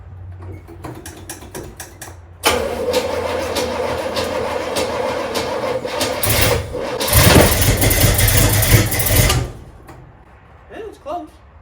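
A Pontiac Trans Am with a 403 engine is started for the first time. Mechanical clicking gives way to a cranking catch and a loud, rough run that surges for about seven seconds and then cuts off abruptly, with voices around it.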